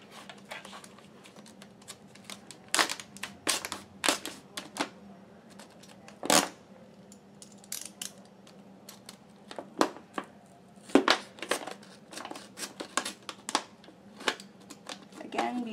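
A knife cuts into a plastic bottle with a run of small, sharp clicks and scratchy snips, close by and irregular, some louder crackles between quieter scrapes.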